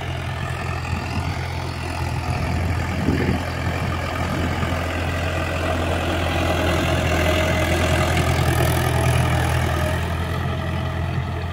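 Mahindra 575 tractor engine idling steadily close by, a low, even diesel rumble with a constant mechanical drone and no talking.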